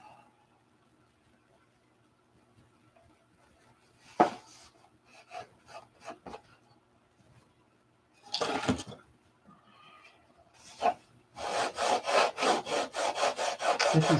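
Hand sanding of wood sets in after scattered knocks and scrapes, a steady rhythmic back-and-forth rasping that becomes loud and continuous in the last few seconds.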